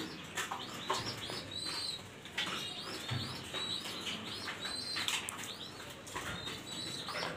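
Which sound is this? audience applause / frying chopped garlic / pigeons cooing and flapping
pigeons cooing and flapping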